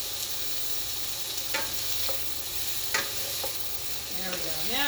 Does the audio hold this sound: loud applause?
no